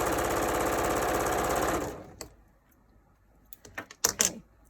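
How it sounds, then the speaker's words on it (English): A sewing machine runs steadily for about two seconds, stitching a quarter-inch seam on quilting fabric, then stops; a few soft clicks and handling knocks of the fabric and tools follow. "we're going to sew at our 1/4 inch from the bottom"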